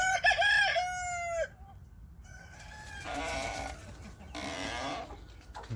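A rooster crows loudly and close by with a long, ringing call, followed by scattered clucking and bleating-like calls from chickens and roosters crowded in a backyard coop.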